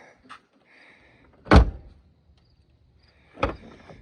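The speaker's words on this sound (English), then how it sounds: "Well, door handle's working." A Ford Focus ST car door handle clicks and the door unlatches with a solid thunk, then a second heavier thud a couple of seconds later.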